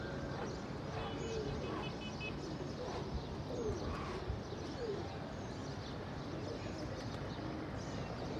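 Pigeons at a rooftop loft in Lucknow give soft, low cooing calls amid a steady background hum, with a few faint chirps and occasional flutters scattered through.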